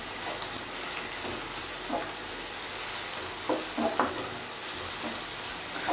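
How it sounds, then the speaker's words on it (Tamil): Chopped tomatoes sauté in a hot pan for an egg curry, giving a steady, soft sizzle with occasional spoon scrapes and stirring taps, heard alone and fairly close. "அதையும் சேர்த்து வதக்கிக்கலாம்"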